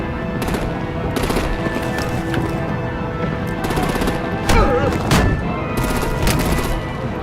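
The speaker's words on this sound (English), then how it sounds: "Break out the artillery and disable their vehicles!" Rapid bursts of artillery and automatic gunfire in the Batman: The Enemy Within video game, loud and repeated across the scene, with some voices mixed in.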